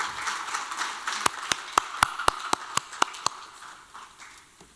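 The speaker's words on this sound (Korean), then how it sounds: "박수로 환영해 주시기 바랍니다" An audience applauds at an environmental leaders' forum to welcome a keynote speaker. Scattered claps start it, then about a dozen sharp, evenly spaced claps stand out over the rest before the sound fades.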